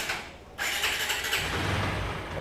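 A Yamaha FZ V3 motorcycle in fresh condition starts up, a short crank followed by the engine catching and settling into a loud, steady idle close by.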